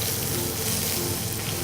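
Fish fries in a special pan, giving a dense, loud sizzle and crackle that holds steady throughout, with no talking.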